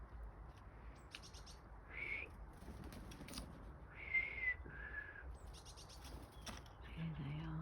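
Small birds, including a robin with a pigeon further back, call on a frosty morning in a garden: scattered thin whistles and chirps come in short bursts over a quiet, faintly creaky background.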